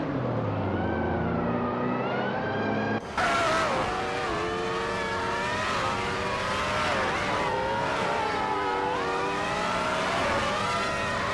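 Race car engines from a 1995 Ligier JS41 in a racing video game hold a steady, loud high drone throughout, with shifting pitch as the cars rev, and a brief dip near the start.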